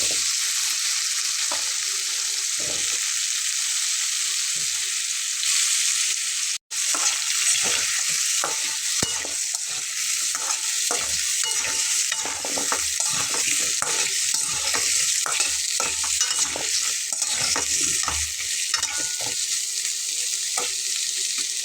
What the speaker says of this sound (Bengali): আমি কিছু আলু এখানে ভেজে নিচ্ছি।